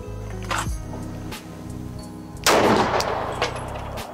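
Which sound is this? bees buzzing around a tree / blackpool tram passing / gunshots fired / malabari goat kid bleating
gunshots fired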